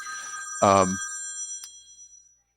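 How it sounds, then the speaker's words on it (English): Telephone bell ringing in a classroom lecture setting, a single loud electronic ring burst with harmonic tones that lingers and fades, followed by a faint second chirp, with no talking. "Sorry, I just got a phone call here."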